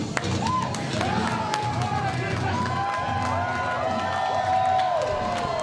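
A wrestling arena crowd cheers and claps continuously, with rising whoops and whistles over a dense wash of applause that holds steady the whole time.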